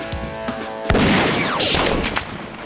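A methane gas explosion in a kitchen, set off by a gunshot: a sharp crack followed by a heavy, rolling boom that decays with roaring debris noise, close and loud.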